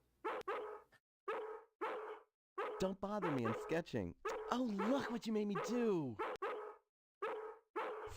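Looped dog barks from the 1996 game Harvester, sharp and regular, mixing with a game character's talking partway through.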